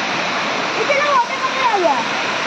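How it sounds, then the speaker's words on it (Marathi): Small artificial waterfall in a play garden, a steady close rush of falling water with a faint high whistle or bird chirps drifting above it. "आणि हा छोटेसे असे वॉटरफॉल केलेले आहेत."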